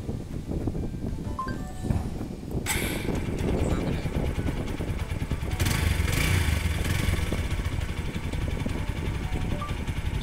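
A motorbike engine runs steadily and close by, a broadband rumble that grows louder partway through, with a voice briefly audible over it.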